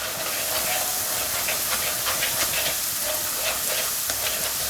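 A steady hiss and sizzle fills a hot pan as chopped roti is stirred into fried egg, with soft scraping of a spatula throughout.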